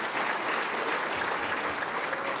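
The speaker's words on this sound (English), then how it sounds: "So let's give a big round of applause to all of our women." A large audience gives dense, steady applause at a Lakewood State of the City address on International Women's Day. The clapping is continuous and fairly loud from start to finish, with no talking over it.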